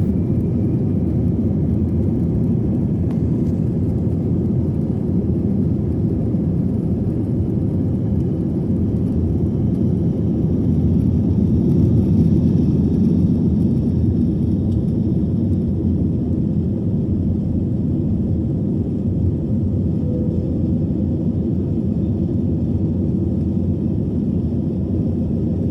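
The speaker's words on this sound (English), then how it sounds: "we are clear for takeoff, runway 26 left" Jet airliner taking off from the runway at Gibraltar, a loud continuous engine roar and rumble heard from inside the cabin, holding steady and swelling slightly midway through the run.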